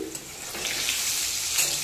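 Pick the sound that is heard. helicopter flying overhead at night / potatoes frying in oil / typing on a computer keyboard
potatoes frying in oil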